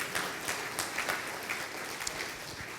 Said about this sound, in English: Let's go ahead and give Lindsay a round of applause.